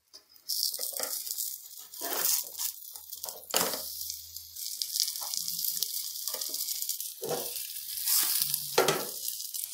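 Aloo paratha frying on a pan with oil, a steady close sizzle and crackle running the whole time, with occasional louder spatters as it cooks.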